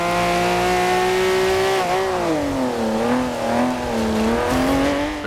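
Race cars in Forza Horizon 2 rev hard with a loud, close engine note, its pitch dipping and climbing as the car shifts and accelerates through corners, with no talking.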